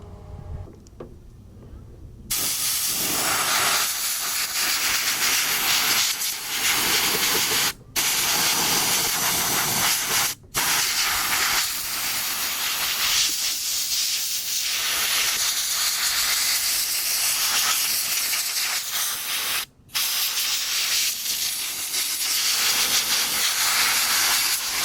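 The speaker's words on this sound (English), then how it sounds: "I'm going to blow it out real good with the air compressor" An air compressor blows debris out of a GE refrigerator, making a loud, continuous rushing hiss that starts after a short quiet moment and breaks off briefly three times.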